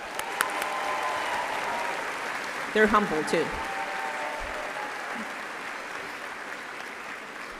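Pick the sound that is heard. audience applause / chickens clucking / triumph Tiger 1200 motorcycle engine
audience applause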